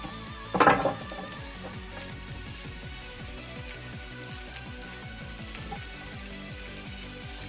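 Chopped onions sizzle in a frying pan for an omelette, a steady soft crackle with a brief louder burst as they hit the hot oil.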